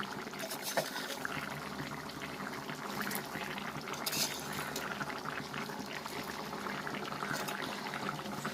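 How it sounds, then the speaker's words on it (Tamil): Potatoes boiling in a pot for an egg curry, a steady bubbling, rolling boil that runs continuously at moderate loudness with no talking over it. "உருளைக்கிழங்கு கொஞ்சம் வேகணும்."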